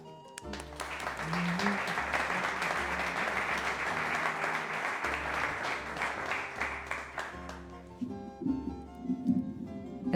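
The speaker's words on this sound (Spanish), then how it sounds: "pues un fuerte aplauso para Beatriz." Audience applause at the closing of an exhibition about the Mozarabic Way of Saint James, a sustained wash of clapping over a low musical hum, fading as a voice speaks near the end.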